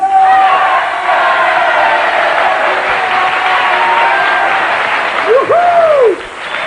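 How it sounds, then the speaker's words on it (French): Studio audience on a French TV game-show set bursts into thunderous applause and cheering for the arrival of host Philippe Risoli, a dense, loud, sustained roar of clapping with whoops, fading slightly at the end. "Tonnerre d'applaudissements pour saluer l'arrivée sur le plateau de Philippe Risoli"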